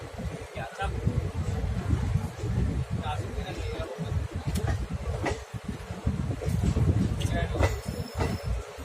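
Chetak Express train rolling into Narnaul station, a rumbling, rattling carriage interior with clicks of wheels over rail joints and faint squeals, steady and close throughout.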